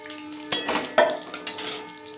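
Fried eggs for an Egg Maharani recipe being lifted out of a pan: a few sharp metallic clinks and scrapes of a utensil against the pan, close and distinct, over a faint background hiss.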